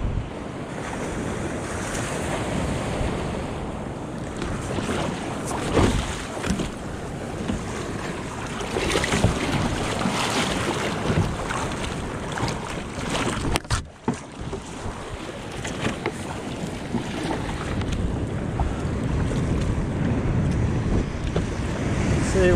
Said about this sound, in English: A few sets to paddle through here and then we'll go over there somewhere.